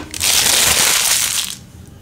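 A plastic bag being emptied gives a loud, close crinkling rustle that runs for about a second and a half, then fades, with no talking over it.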